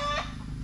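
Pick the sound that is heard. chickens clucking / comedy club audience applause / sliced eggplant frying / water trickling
chickens clucking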